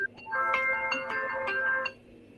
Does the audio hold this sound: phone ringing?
yes